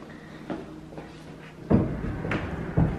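A door in a luxury apartment in Nashville opens and closes with a few soft thuds and knocks, the loudest near the middle, faint and close with no speech.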